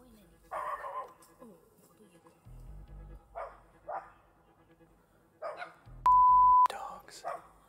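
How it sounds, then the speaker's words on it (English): Dogs bark in an abandoned theme park, several short, distant barks and yips repeating in bursts. A bleep cuts in once and low rumbles sound between them. "The dogs are still barking."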